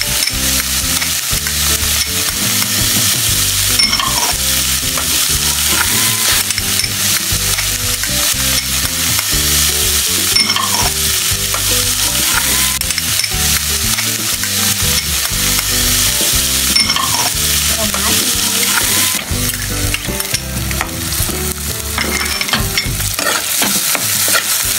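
Garlic after onion sautéing in a pan for a stuffed milkfish dish, a dense steady sizzle with frequent stirring scrapes, loud and continuous throughout with no talk.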